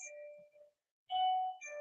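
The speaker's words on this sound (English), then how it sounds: "Somebody ringing my doorbell." A doorbell chimes with two clear ding-dong tones separated by a short silence, each ringing bright and sustained before fading, heard alone in a quiet room.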